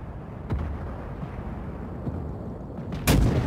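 Naval ship artillery fires in World of Warships, a few muffled booming gunshots over low rumbling battle ambience, with the loudest close blast near the end.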